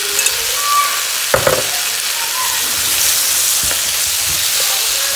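Carrots added to a pan of vegetables, including aubergine, frying loudly with a steady, bright sizzle and a couple of brief clatters, without any talk.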